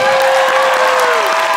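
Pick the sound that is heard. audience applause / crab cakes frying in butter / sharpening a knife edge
audience applause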